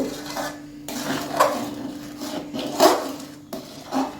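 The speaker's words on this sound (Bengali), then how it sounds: "এবারে খুব ভালোভাবে সবগুলো উপকরণগুলোকে মিশিয়ে নেব।" A spoon scrapes and clinks against a pot as milk payesh ingredients are mixed, a few close, irregular metallic strokes over a faint background hum, with no voices.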